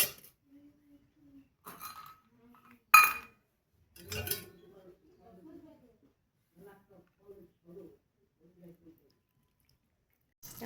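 Sharp clinks of bowls being handled while tea is drunk sound in a quiet room, a few separate clear hits with soft knocks and small sounds between them, alongside quiet voices.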